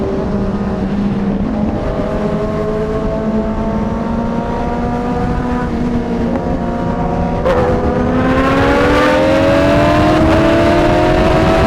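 A Kawasaki Ninja 1000 motorcycle with a barrel exhaust accelerates on a highway, its engine note climbing steadily in pitch through the gears. The sound is loud and continuous, with no voices.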